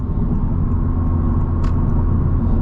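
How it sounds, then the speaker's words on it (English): Steady, loud road and tire roar from Cup 2 tires on a Civic Type R cruising the freeway, a continuous low rumble heard from inside the cabin with no talking. "There's slightly more trunk lining going on with the Cup 2s on the freeway, and definitely noticeably more tire noise as well."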